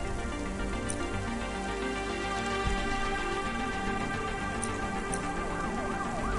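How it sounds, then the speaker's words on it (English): Rain falls steadily on city surfaces in the video game Cloudpunk, a dense, continuous patter with faint layered ambient tones beneath and no talking. "Don't let all the rain get you down."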